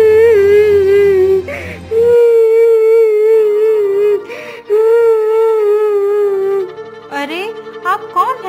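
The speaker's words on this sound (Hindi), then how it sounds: "किसके रोने की आवाज है?" A cartoon woman wails and sobs in long, wavering, drawn-out cries, loud and close, broken by brief pauses before a short musical flourish.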